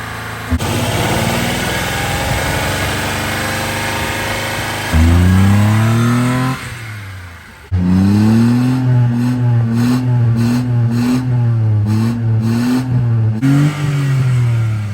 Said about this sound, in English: Andy did a rev off. It seems to be going good now